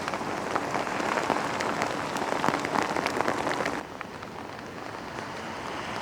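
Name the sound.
heavy rain falling at Blackpool seafront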